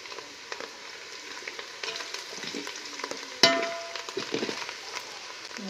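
Ginger paste, turmeric and coriander powder frying in a pan for Dhangar-style mutton kharda: a soft, steady sizzle with one sharp clink of a utensil against the pan.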